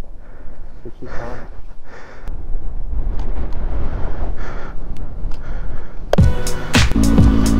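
Heavy wind buffeting the microphone in rumbling gusts outdoors at Lajatico, Italy, with a sharper crackling burst of noise near the end.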